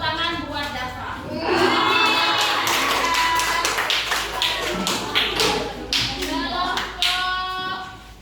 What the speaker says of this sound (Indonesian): Tepuk tangan buat Dafa.